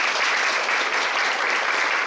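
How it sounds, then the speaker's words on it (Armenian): Steady applause from an audience at a kindergarten graduation matinee for the "Red Suns" group, a dense, even wash of clapping filling the whole stretch with no voices on top. "ևս բարձր ծափահարել"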